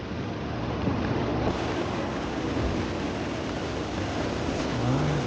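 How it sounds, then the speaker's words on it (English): Surf and wind at Virgin Beach in Candidasa, Bali, a steady, dense roar of waves washing ashore with gusting wind buffeting the microphone throughout, no voices. "We have arrived at Virgin Beach."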